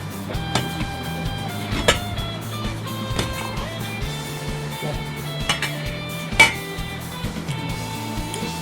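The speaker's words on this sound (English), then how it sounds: "So I'm going to mix it a bit at the tuna here" Metal utensil clinking and scraping against a bowl while tuna, egg and mayo are mixed, with irregular taps and a few sharper clinks over a low background hum.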